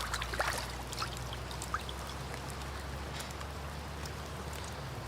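Water pours and splashes over a freshly cleaned trout in a steady, close rushing stream, with a few brighter droplet spatters at the start.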